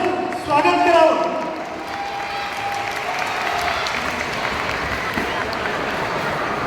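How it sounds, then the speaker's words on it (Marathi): An audience at a school event claps, a burst of applause swelling at the start and then settling into steady, sustained clapping from a crowd, with a voice and brief tones audible early on. "सर्वांनी या गीताचं टाळ्या वाजवून"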